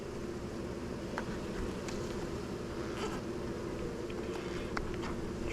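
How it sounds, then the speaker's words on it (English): Honey bees buzz steadily as they are moved into a nuc, a dense, continuous drone at even loudness with a few faint clicks and knocks from handling the hive frames. "keep these bees as intact as possible"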